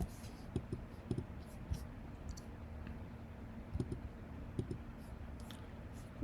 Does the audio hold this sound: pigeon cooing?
no